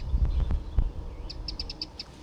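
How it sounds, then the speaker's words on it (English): A small wren chirps from a bush beside a riverbank on the River Waveney on a quiet morning, giving a quick run of high, sharp notes after a few low thumps, fairly close and alone. "The wren is still chirping away in this bush beside me."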